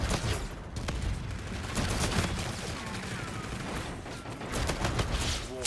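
Gunfire in a multiplayer shooter match: dense, rapid bursts of automatic fire crackle almost continuously at moderate loudness, mixed with distant booms and scattered single shots.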